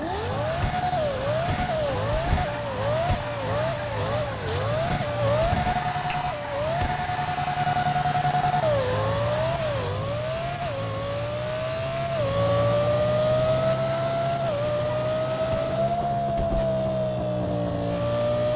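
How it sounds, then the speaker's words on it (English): Emperor Sheava, a Lexus LFA-style supercar in the video game GTA 5, doing a burnout under a bridge: a loud, high engine that revs repeatedly in quick rising and falling pulses, then settles into a long sustained wail. "Let's do a burnout."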